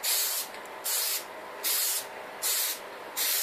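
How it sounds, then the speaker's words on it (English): Short bursts of spray paint on a laptop cover hiss in a steady rhythm, about five sprays separated by brief pauses, loud and close. "the paint spray is at about 90 degrees to the surface"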